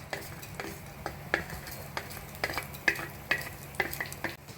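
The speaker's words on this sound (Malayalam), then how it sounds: "നമുക്ക് ആ ചെറുപയർ പരിപ്പ് അതിലേക്ക് ഇടാം, ഇട്ടൊന്ന് മൂപ്പിക്കാം." Moong dal and fenugreek seeds frying in hot oil, with a soft sizzle under a steady run of light spoon taps and scrapes against the pan, close and fairly quiet.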